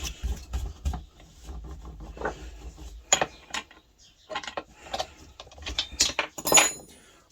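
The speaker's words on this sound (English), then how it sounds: "So now I'm just going to put the flywheel on" A reverse-thread flywheel being fitted onto a bike for a pedal-powered generator, close metallic clicks, ratcheting and clanks coming in irregular bursts with brief pauses between them.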